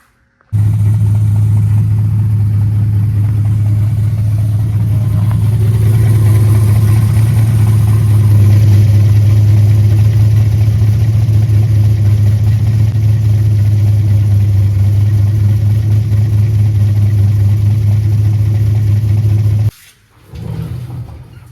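Turbocharged C3 Corvette engine running while driven down the road: a loud, steady low-pitched drone that holds for about twenty seconds before briefly dropping off.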